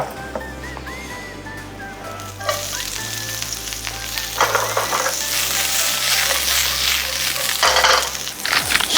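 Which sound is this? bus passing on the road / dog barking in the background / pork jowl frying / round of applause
pork jowl frying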